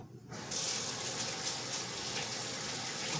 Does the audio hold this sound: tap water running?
yes